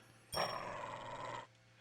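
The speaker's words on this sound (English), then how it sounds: "As we walk along, Koromaru-san growls." A dog's low growl in the Persona 4 Arena Ultimax fighting game, a single sustained rumbling snarl of about a second, close and clear with no talk.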